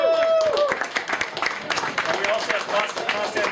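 Audience applause at an evening political campaign event for a New York City Council race in Queens, a dense, steady patter of clapping close by with voices talking over it throughout.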